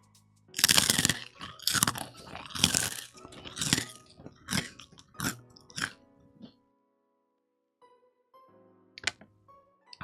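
Twisty, ridged wheat snack chips with a honey glaze crunched close up, a burst of loud, rapid crisp bites followed by softer chewing crunches that fade, then a few final faint crackles.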